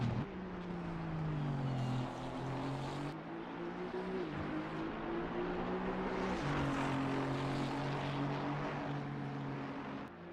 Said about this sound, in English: Aston's another car that sounds great